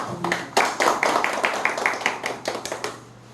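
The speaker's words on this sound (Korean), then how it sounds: "박수로 시작할까요?" A lecture audience claps, a short round of crisp, separate handclaps from a modest group that tapers off after about three seconds.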